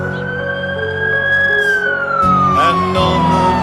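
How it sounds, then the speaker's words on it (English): Emergency sirens wailing close and loud, a sweeping tone rising and then falling over a bed of steady musical tones. "thus the sound of sirens"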